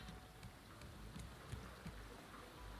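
Rain falling in a video game, a faint steady patter of drops with soft hiss and small scattered splashes, continuous and quiet in the background.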